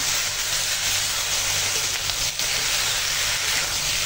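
Spices being sautéed (kasha) with turmeric, chilli powder and salt in a pan, a steady loud hissing sizzle that runs unbroken and close, with no talking.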